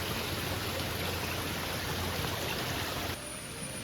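Steady rushing of water from a small stream beside a rural road in Kerala, continuous and fairly close, with a faint high hiss over the flow.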